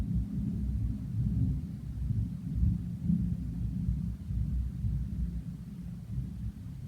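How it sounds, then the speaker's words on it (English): A low, distant rumble of thunder rolls on steadily for several seconds, deep and muffled with no other sounds. "Did you hear that thunder?"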